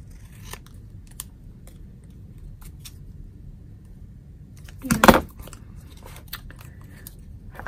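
Scissors snip paper for a Christmas mini pizza box craft, a few quiet scattered cuts then one louder close crunch of a blade closing, with small clicks in a quiet room.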